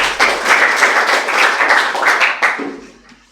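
Loud, close applause from a classroom of students after a tea-making explanation, dense clapping that builds quickly then fades out over a few seconds.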